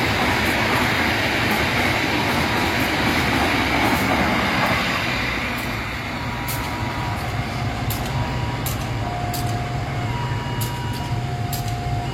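The Sancaka express train rumbles past at close range in Indonesia, a steady broadband roar with rhythmic wheel clatter and faint high squeals throughout.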